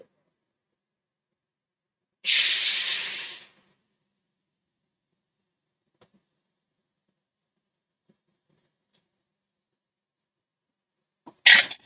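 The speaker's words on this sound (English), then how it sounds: "can you feel your brain cells dying with that spray?" Spray can sprayed in two bursts: a loud hissing spray of about a second near the start, then silence, then a second short hiss at the very end.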